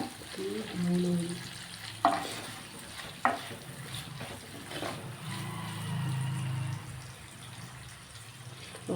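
Mushrooms frying in a pan for a morning mushroom gravy, a steady sizzle broken by a few sharp clinks of a spoon stirring against the pan, with louder bursts of crackling toward the middle.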